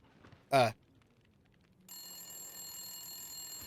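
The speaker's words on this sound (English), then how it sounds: "That's the phone." Telephone ringing in The Long Dark video game, a single short, loud ring burst in a quiet room, then a steady high electronic tone that persists.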